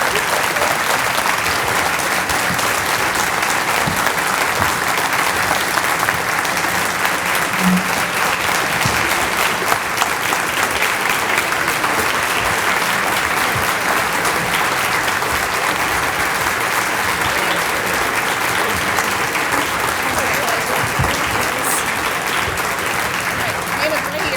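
Sustained, dense applause from a business audience at the Rooster Booster Breakfast congratulating young people, loud and steady throughout with no break.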